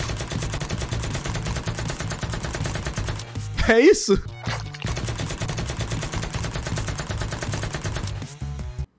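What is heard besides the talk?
gunshots in a video game, enemy firing and missing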